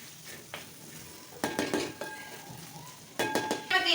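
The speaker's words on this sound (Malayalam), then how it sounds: "തക്കാളിയിലൊക്കെ നന്നായിട്ടൊന്ന് മിക്സ് ആക്കി എടുക്കാം." Tomatoes are stirred in a sizzling frying pan for mutton sukka, with spoon scrapes and clatters against the pan coming in short bursts over a steady, soft frying hiss.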